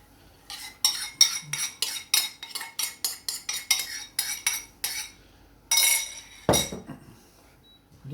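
A utensil stirring a cream and egg yolk mixture into flour in a frying pan for an onion tart, rapid rhythmic metallic scrapes and clinks about twice a second, close and crisp, then a few slower strokes.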